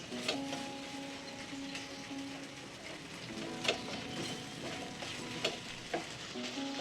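Brinjal and tomatoes sautéing with salt for a tamarind kuzhambu make a soft, steady frying sizzle, with occasional sharp stirring scrapes and a faint tonal hum in the background.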